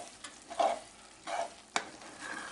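Fried corn is stirred in a pan, with a few soft scraping strokes and one sharper knock over a faint sizzle, close up and quiet.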